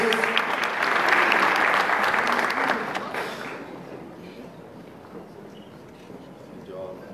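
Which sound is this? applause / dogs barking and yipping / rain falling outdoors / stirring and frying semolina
applause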